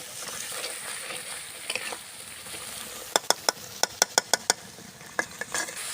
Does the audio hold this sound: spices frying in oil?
yes